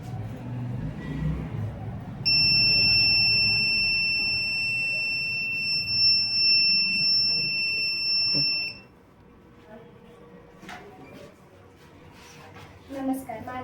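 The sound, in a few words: buzzer sounding for five seconds in student electronics project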